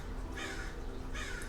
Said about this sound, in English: Do you guys hear the crows outside?